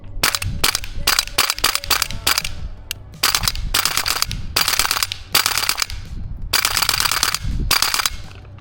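Rapid bursts of a toy XM7 blaster firing, switched between shotgun and M4 modes, loud and close with dense rattling volleys separated by short pauses.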